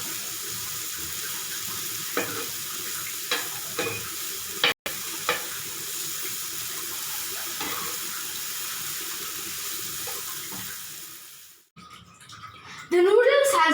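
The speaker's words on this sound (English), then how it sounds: "Now, I am roasting all the vegetables." Onions, coriander leaves, green chilies, soya sauce and butter roast with vegetables in a pan for vegetarian Hakka noodles, giving a steady broadband sizzle with occasional stirring clinks. A brief break near the middle is followed by a louder clatter at the end.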